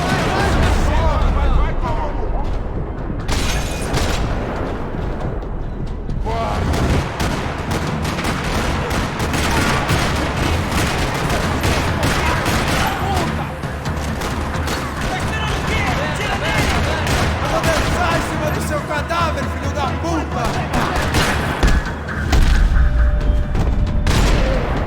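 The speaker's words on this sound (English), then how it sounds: "Another parking lot rattling with gunfire." Gunfire in a parking lot in the Max Payne 3 video game, dense rattling bursts and booms running continuously and loud throughout, with a voice talking over parts of it.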